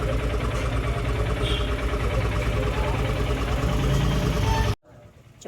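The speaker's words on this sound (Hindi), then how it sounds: "अभी तो इंजन एकदम स्मूथ चल रही है बढ़िया करके" A motorcycle engine idles smoothly with a steady, close rumble; someone talks over it before the sound cuts off abruptly near the end.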